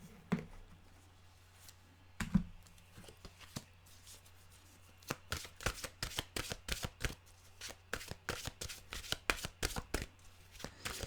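A deck of mantra cards is shuffled up close: a few soft taps early on, then a quick, steady run of sharp riffling flicks for the last six seconds, with no talking.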